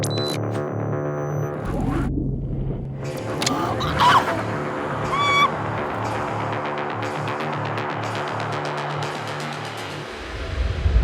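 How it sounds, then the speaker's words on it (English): A Porsche Taycan Turbo S electric car pulls a full launch control start, a rising electric whine and rushing road and wind noise surging loudly as it accelerates away, ending in a low rumble. "That, my friend, is a full launch control start from the new Porsche Taycan Turbo S."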